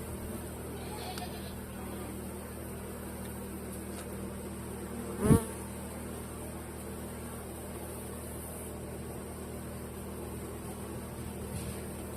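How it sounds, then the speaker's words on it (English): A dense, steady hum of many bees buzzing around the bottom of a beehive continues throughout, with one brief louder thump partway through and no talk. "There's a whole lot of bees in the bottom of the hive."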